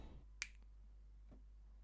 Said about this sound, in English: finger snap.